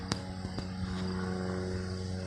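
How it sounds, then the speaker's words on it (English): A propeller airplane climbing overhead near a mountain hums steadily from a distance, with a low droning engine tone and a few sharp clicks and knocks nearby, and no speech. "Got a plane here. Looks like it's trying to climb."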